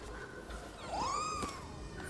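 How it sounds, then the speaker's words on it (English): A cat meows once in the video game Nioh 2, a single rising and falling cry heard clearly over a soft in-game ambient background. "And then you can also talk to the cat."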